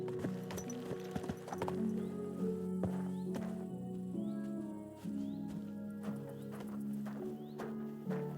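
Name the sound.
horse hooves clip-clopping, video game Kingdom Come Deliverance 2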